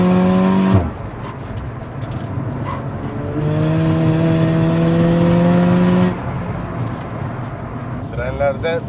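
A Volkswagen Golf MK6 GTI with a Stage 4 tune revs hard, its engine note climbing in strong harmonic sweeps, dropping, then rising again in a long sustained pull, loud and close, with brief voices at the end.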